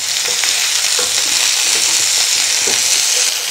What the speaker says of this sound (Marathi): अगदी 2 मिनिटे हा टोमॅटो आपण भाजून घेऊया